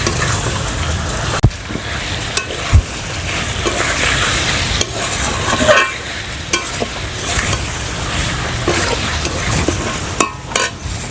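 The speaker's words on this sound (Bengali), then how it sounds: "দিয়ে দিচ্ছি সেদ্ধ করে রাখা মাংসগুলো। মশলার সাথে খুব ভালো করে মিশিয়ে নেব।" Boiled chicken spare parts are stirred into masala in a pan, giving a continuous loud frying sizzle broken by scattered spatula clacks against the metal, with no talk.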